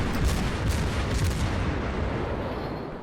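Heavy naval guns fire in World of Warships, with deep booming shots rolling together into a rumbling barrage that slowly fades over a few seconds.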